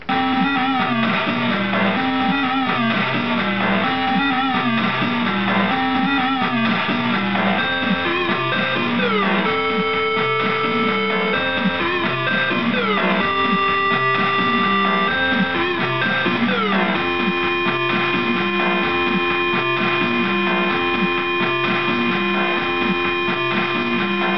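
A circuit-bent Game Boy plays a steady electronic chiptune beat, with repeating glitchy square-wave tones over a pulsing rhythm, loud and continuous with no talking.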